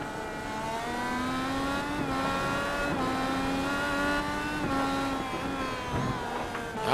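Race car engine in iRacing at the Mid-Ohio circuit, a steady, loud, high-pitched whine that holds nearly constant throughout, with slight pitch shifts as another car runs alongside.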